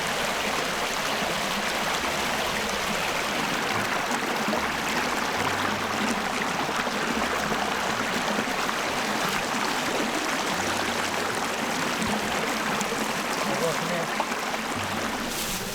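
A river flowing below a high bank on a farm gives a constant broadband rush of moving water, steady and fairly loud throughout, with a faint low rumble beneath.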